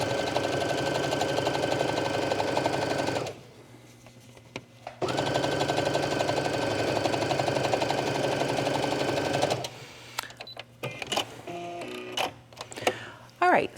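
A sewing machine stitching yoga pants fabric, running in a steady, loud, even whir, pausing briefly, then resuming. Handling clatter and rustling follow as the stitching ends.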